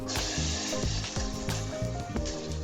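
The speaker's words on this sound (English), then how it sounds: "In a separate pot, add 2 teaspoons of oil, toss in the onions" Onions sizzle in two teaspoons of oil in a pot, a steady close hiss with scattered crackles and faint clinks of a utensil stirring, no speech.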